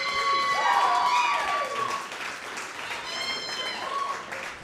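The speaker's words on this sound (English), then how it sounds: "everybody please clap very hard" A comedy club audience applauds and cheers for an amateur comic at the end of a live show. The crowd noise holds steady throughout, with cheering voices and high whoops over the clapping.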